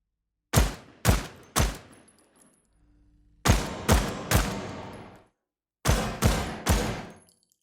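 Gunfire in the Lyra starter game built in Unreal Engine 5, heard as three groups of three sharp, loud shots, each with a long decaying reverb tail, with a low hum between the first two groups.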